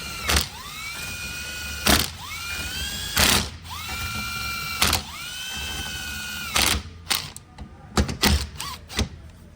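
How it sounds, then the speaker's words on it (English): Bolts on a 6L90 transmission valve body being tightened with a ratchet, a run of rapid clicking bursts separated by short sharp clanks, close and loud with no talking. "when you tighten these, you don't want to tighten them too hard because you want to torque them"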